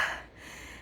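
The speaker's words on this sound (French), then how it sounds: "Désolée pour le bruit de fond de mon essoufflement." A hiker out of breath on a coastal trail gives one short, close, breathy gasp that fades quickly.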